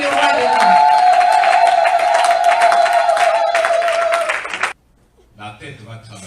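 A church congregation applauds and cheers loudly and continuously alongside a sustained voice, then the noise cuts off abruptly and quieter voices follow.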